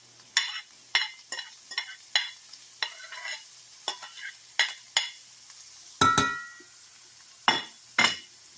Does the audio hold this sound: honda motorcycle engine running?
no